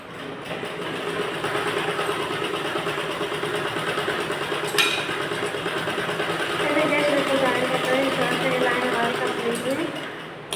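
A sewing machine runs steadily, stitching net fabric for a blouse, its motor hum continuous and fairly close throughout, with a short click midway and a slight rise in pitch and loudness near the end.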